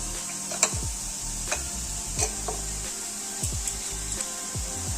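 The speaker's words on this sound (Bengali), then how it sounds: "এটা ভালো করে আমরা গুলে নেব জলের সঙ্গে।" A spoon stirs cornflour into water, tapping and scraping against the container in a quick, regular rhythm of small ticks over a steady background hiss.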